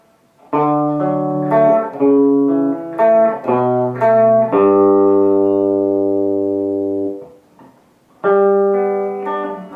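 An electric guitar plays the bridge of a song as a sequence of sustained partial chords in a steady progression, one held long before a pause and a final chord.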